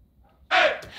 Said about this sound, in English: I got this vocal sample.